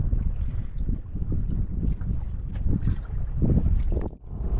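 Wind gusts over an open fishing boat at sea, a broad rushing roar buffeting the microphone in uneven surges for several seconds, with no voices.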